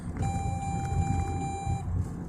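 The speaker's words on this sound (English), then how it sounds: "It's my car dinging for no reason." A car's warning chime sounds inside the vehicle, a steady high electronic tone held for almost two seconds over a low engine rumble, with no talking.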